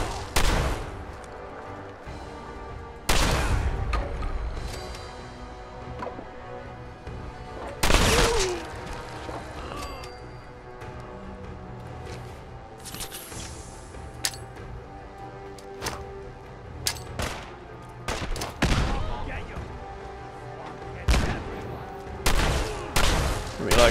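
Gunfire in Fallout 4's Far Harbor, with sharp loud shots bursting at irregular intervals over a quieter game ambience, some single cracks and some clustered volleys.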